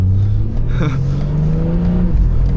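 A BMW M4 Competition's turbocharged engine drones loudly from inside the car on the road, with a steady low exhaust note that rises slightly as it pulls, plus a brief whistling turbo flutter.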